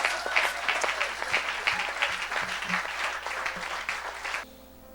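A church congregation applauds in a dense, steady wash of clapping with some cheering mixed in, lasting several seconds before cutting off abruptly into near silence.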